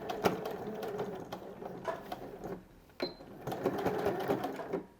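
A sewing machine stitches forward and back to tack elastic in place for an Ettle sew-along, its rapid needle chatter running in bursts with a brief pause around the reversal.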